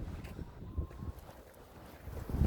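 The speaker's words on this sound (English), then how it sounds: "It's a beautiful day out, but it's windy as all heck" Steady strong wind buffets the microphone outdoors on a winter homestead, a low rumbling roar with gusty surges and no voices.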